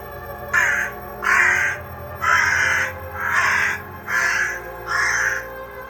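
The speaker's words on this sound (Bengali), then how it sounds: "কাকটি কা কা শব্দে তাদেরকে কি যেন বলতে চাইছে।" A cartoon crow cawing at a cremation ground in a Bengali horror cartoon: six loud, evenly spaced harsh caws, close and alone with no other sound.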